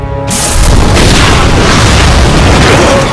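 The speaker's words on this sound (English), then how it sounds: "Shoot the gas! We can blow these things to Kingdom Come!" A gas explosion in Resident Evil 6 erupts into a huge, sustained, very loud blast and roar that fills the whole moment, with no voices heard.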